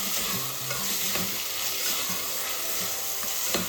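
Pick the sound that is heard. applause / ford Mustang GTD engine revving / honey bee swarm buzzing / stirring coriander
stirring coriander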